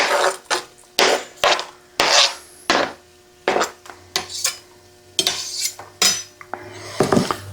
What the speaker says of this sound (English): got my onion diced up real good. Go ahead and add it in.